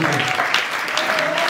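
An audience claps for an artist at a music awards ceremony, a dense, continuous patter of applause with a voice talking over it.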